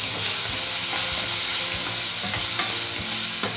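Ginger garlic paste sautéing in a pan, a steady dense sizzle and hiss with occasional soft scrapes of stirring throughout.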